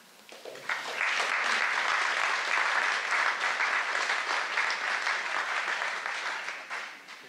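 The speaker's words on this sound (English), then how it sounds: "I would ask that you give a warm applause to Robin Clayton." Sustained applause from a crowd at an all-candidates meeting, steady clapping that swells quickly and holds for several seconds before tapering slightly.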